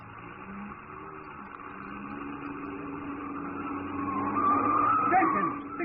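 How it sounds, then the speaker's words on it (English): A car rounds a corner fast on two wheels, its engine hum building and tires squealing as it swings through the turn, loudest near the end; the sound is from an old radio drama. "You turn that corner on 2 wheels."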